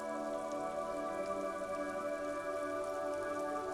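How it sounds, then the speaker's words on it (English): Steady rain ambience from the video game Disco Elysium, a continuous even patter of rainfall over a city, with a faint sustained musical drone underneath and no voices. "A silvery curtain of rain over the houses."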